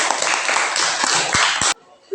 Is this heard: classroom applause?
yes